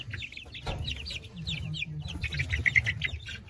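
Hens in a coop cluck and chatter in soft, scattered bursts, with a few higher squawks near the end over low background rumble.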